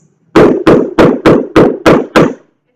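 Seven sharp, evenly spaced tap dance hammer steps, a tap shoe's toe striking a hard floor, loud and close, like steady knocking or hammering.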